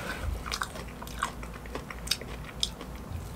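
Close, soft chewing and biting of tropical fruit such as dragon fruit, passion fruit or mangosteen, with moist smacking and small crunches repeating irregularly at a quiet level and no talking.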